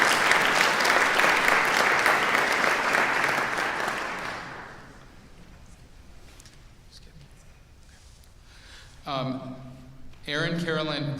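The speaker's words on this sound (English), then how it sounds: "Let's please applaud Dr. Marsden in his absence." Sustained audience applause at a university music department commencement ceremony, loud and dense for about four seconds before fading into quieter room noise, followed by brief bursts of a voice speaking.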